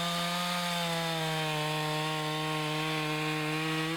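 A chainsaw making a felling cut in a tree, its engine holding a steady high buzzing drone throughout, close and continuous with no talking.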